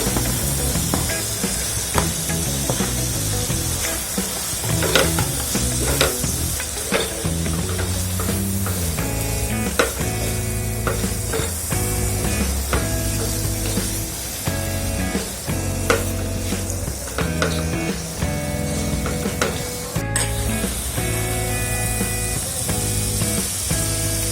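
Baby corn hisses in a hot pan and is stirred, with a steady loud sizzle running throughout under repeated scraping and clattering strokes.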